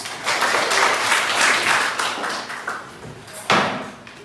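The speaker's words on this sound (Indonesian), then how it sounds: "tepuk tangan untuk kita semuanya" Classroom applause from students, a dense patter of clapping that swells and fades over a few seconds, with a sharper burst near the end and faint voices underneath.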